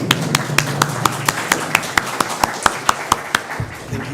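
An audience at a university laboratory launch stands and applauds a guest speaker, giving a sparse, steady run of single hand claps that is fairly quiet, with a faint murmur in the room.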